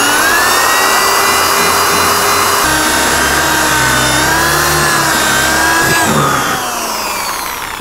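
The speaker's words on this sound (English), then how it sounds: "take your 5-gallon bucket and your drill, and we're going to want to drill a few holes in the bottom for drainage" A power drill bores drainage holes through the bottom of a 5-gallon plastic bucket, its motor whining loud and close with a wavering pitch that sags and rises as the bit bites, then eases off near the end.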